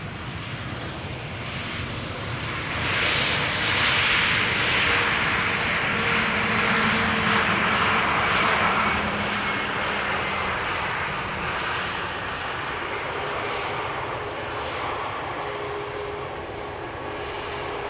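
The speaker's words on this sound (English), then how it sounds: "there's the A380 taxiing back to the main platform area" Airbus A380 taxiing at Amsterdam Schiphol Airport, a steady loud jet engine roar that swells slightly and then holds, heard alone.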